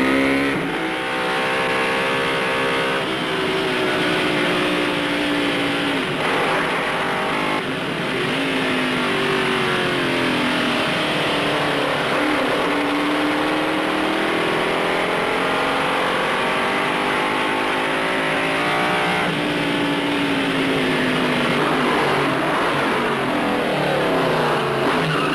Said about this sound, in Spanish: Si anda bien y el motor suena armoniosamente, el ruido se transforma en música.